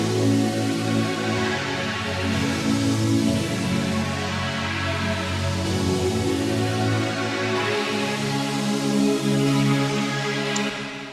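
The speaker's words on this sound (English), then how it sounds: "The sound is almost like a guitar sound plus a lead and a saw something sound in there." Gqom bassline synth preset, a guitar-like lead layered with a saw sound, playing a steady, loud, dense riff with heavy low-end bass throughout, no talking.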